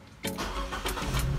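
A car engine cranks and catches with the air conditioning and blower switched off, a short starter whir followed by the engine firing and settling into a loud, close rumble.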